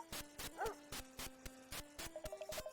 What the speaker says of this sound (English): It's a dog barking, isn't it?